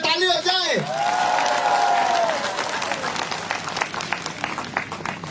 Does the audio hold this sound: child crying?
no